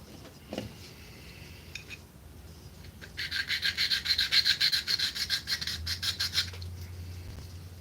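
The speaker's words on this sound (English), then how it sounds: "This 300 grit eats it up pretty quick." Sanding steel with 300 grit sandpaper, a quick run of rhythmic, bright rasping strokes that swell loud in the middle of the clip and then fade, with no talking.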